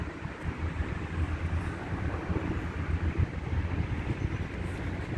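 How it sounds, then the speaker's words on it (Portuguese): Strong outdoor wind during boomerang throwing buffets the microphone with a loud, continuous low roar and rumble that barely varies for the whole stretch, with no voices. "O vento é bem forte e eu só tenho esse vento"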